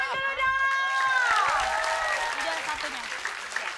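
An audience applauds at a comedy show's cosplay contest while a bright synthesized musical fanfare plays over the clapping.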